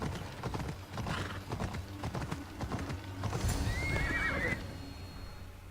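In Assassin's Creed Odyssey, hooves clip-clop in a quick galloping rhythm, then a horse lets out a high neigh near the end.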